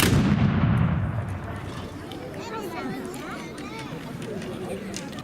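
A musket volley fired during a historical drill at Caerphilly Castle: a single loud, booming blast at the start with a long rolling echo, followed by a voice speaking and crowd murmur.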